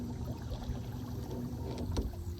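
Motorboat cruising along on the water, a steady low engine drone with wind and water noise, fairly quiet and even throughout with no talking.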